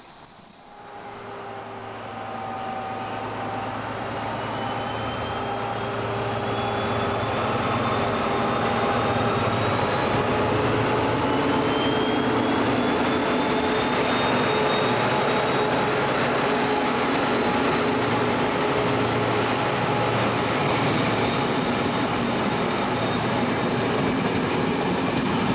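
Deutsche Reichsbahn class 119 diesel locomotives rumble through Wilten station with a steady diesel drone, long squealing wheels and faint clicking rails, growing louder as they approach.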